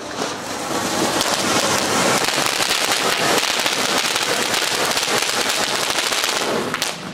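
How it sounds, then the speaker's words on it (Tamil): White Crackling night firework crackling continuously, a dense, loud, sustained spray of sharp pops and sizzles lasting several seconds before tapering off near the end. "இந்த வெடி வந்து ஒயிட் கிராக்லிங், நைட்டு பொருத்துற வெடி."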